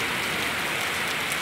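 Steady rain patters loudly on a road in Pindwara, a dense, hissing wash of drops with no voices.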